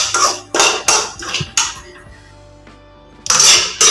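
Semolina is roasted until light brown in a pan and stirred with a metal spoon, giving several loud scraping, clinking bursts in an uneven rhythm around a brief quiet pause.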